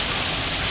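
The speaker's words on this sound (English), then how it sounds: "it's a torrential downpour at this point right now" Heavy torrential rain pours down steadily at an off-grid homestead, a dense, loud, unbroken hiss of water without any voices.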